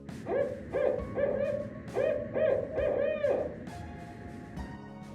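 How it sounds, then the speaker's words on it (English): A barred owl gives its rhythmic 'who cooks for you' hooting call, a series of about six loud, clear hoots in quick succession outdoors, with no voices present. "You can tell there's a barred owl nearby when you hear their famous "Who Cooks for You" call."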